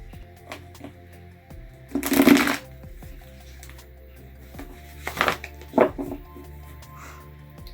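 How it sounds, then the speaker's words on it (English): Tarot cards being shuffled by hand in a quiet room, a few short riffling bursts with soft taps and handling noises between them, close and clear with no talking. "put them back in the pile, give it another shuffle."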